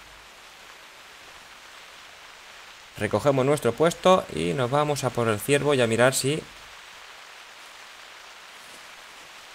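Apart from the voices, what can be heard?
rain in the video game The Hunter Classic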